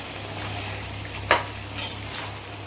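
Chicken thokku with chopped coriander and mint is stirred in a pan, a low sizzle running under two sharp scrapes of a utensil against the metal.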